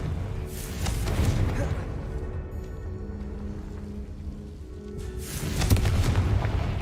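Confringo spell blasts in the Hogwarts Legacy video game: deep, booming explosive bursts near the start and again toward the end, with rumbling low-end impacts and a quieter stretch between.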